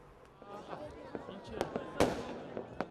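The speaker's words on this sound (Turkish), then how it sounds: "Ateşler yakıldı, havai fişekler patlatıldı" Fireworks go off at an outdoor Nowruz spring festival, a string of sharp cracks and bangs over a steady murmur of voices and crowd noise.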